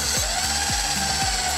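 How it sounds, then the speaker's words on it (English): A drill boring a pilot hole during a seat installation, a steady high whine with a rhythmic grinding pulse about every half second, close and loud, no talk. "I'm gonna go ahead and pop a pilot hole directly on the Sharpie mark that we put in."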